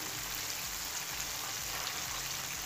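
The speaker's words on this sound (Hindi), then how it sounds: "चिकन के ऊपर कितना खूबसूरत सा कलर आ चुका है तो इसे थोड़ी देर और फ्राई होने देंगे" Pieces of chicken frying in hot oil for crispy fried chicken, a steady soft bubbling sizzle that stays even and fairly quiet, with no voices.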